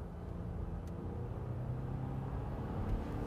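A 2021 Volvo XC60 T6 Recharge hybrid SUV accelerates, heard as a steady low road rumble and engine drone from inside the cabin, fairly quiet and continuous with no speech.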